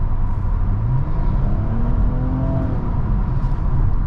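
A 2022 Nissan Maxima with a 3.5-litre engine accelerates on the road, its loud steady engine drone rising in pitch through the gears over constant road rumble, heard from inside the car with no talking.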